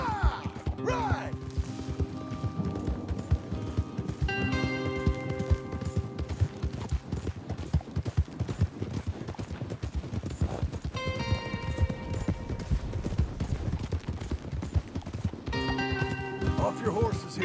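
Horses galloping in Red Dead Redemption 2, a fast steady clatter of hooves under game music and riders talking.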